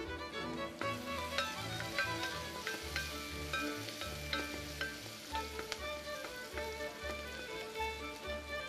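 Onion frying in a pan, a steady close sizzle with soft crackles throughout, alone without talk, fairly quiet and even over about nine seconds.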